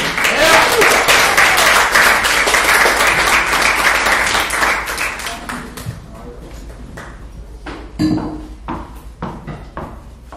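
A comedy-club audience applauds as a comedian is welcomed to the stage, loud dense clapping that thins into scattered claps, with cheers and a voice rising near the end.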